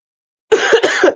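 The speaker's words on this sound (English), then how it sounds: "I'm coughing so much" A person coughs harshly in a quick burst of about three to four close, loud hacks, near and alone with no talk.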